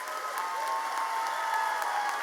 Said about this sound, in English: Please join us in applauding their accomplishments.